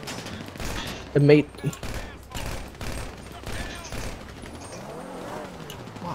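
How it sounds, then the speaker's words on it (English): Gunfire during a GTA V heist at a meth house, heard as rapid volleys of pops and cracks, one louder burst early, while a voice talks over the shooting. "Oh, they're shooting in the house."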